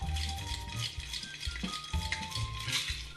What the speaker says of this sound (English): Get in there, give it a little mix.